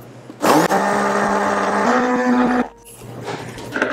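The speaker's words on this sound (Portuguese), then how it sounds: "Você pode utilizar o liquidificador ou o mixer" Blender or stick mixer whirring loudly for about two seconds, blending a liquid protein mixture for a siphon foam at a bar, with a steady motor tone that rises in pitch before cutting off, then fainter handling noise.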